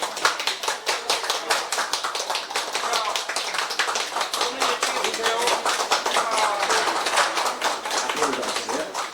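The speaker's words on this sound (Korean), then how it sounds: "박수 부탁드리겠습니다." Guests at a poet's book launch celebration applaud during a cake cutting, a lively, crisp patter of many hands clapping close by, with some chatter and voices mixed underneath.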